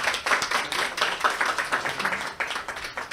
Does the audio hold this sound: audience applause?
yes